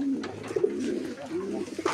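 Fancy foreign pigeons cooing at a pigeon sale, soft repeated low coos with a few brief wing or cage sounds in the background.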